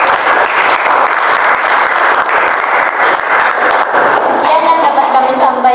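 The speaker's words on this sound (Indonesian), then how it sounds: "Tepuk tangan buat kelompok" A class claps for a student group that has just finished presenting, a steady continuous patter with voices underneath.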